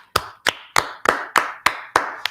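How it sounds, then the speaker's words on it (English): Eight sharp claps in a steady rhythm, about one every third of a second, with no voices in between. "let's clap it up for the Lord"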